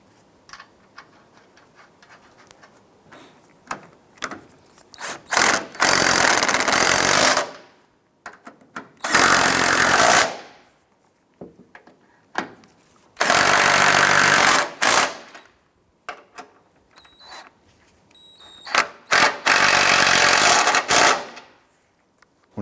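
Impact tool on the four strut mounting nuts of a 2001-2007 Ford Escape, four loud sustained bursts of a couple of seconds each separated by quieter shop sounds and small clicks.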